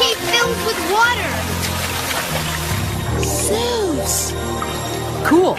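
Water rushes and sloshes as it fills a cartoon cave, a continuous wash under music and excited voices.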